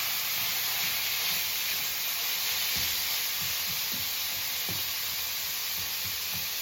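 Beef browning in a pan, a steady close sizzle and hiss with scattered soft pops and crackles, continuous and even, no one talking.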